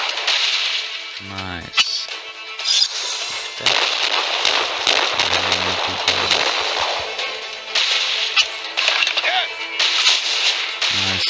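Brig's cannons firing in the pirate naval game Assassin's Creed Pirates on mobile, a rapid volley of sharp booming shots and crackling impacts over game music, with someone talking briefly.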